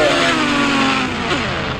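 A Ghost Rider motorcycle engine in a video game revs loudly and continuously, its pitch shifting as it accelerates, with no talking.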